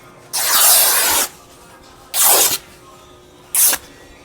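Woven fabric ripped by hand in three bursts: a long tear, a shorter one, then a brief final rip. Each is a loud, broadband rasp with silence in between.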